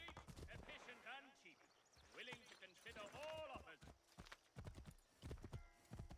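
A horse's hooves clip-clop in the video game Assassin's Creed III Remastered, a brisk, fairly close rhythm of hoofbeats. A person talks over them throughout.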